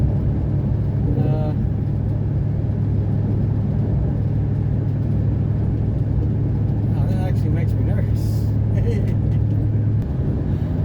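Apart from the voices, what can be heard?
Ford F-150 pickup driving with bad suspension noise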